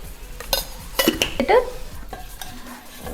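Asafoetida and turmeric being sautéed in oil inside a pressure cooker, soft sizzling under several sharp metal spoon scrapes and clinks against the pot in a short, irregular burst.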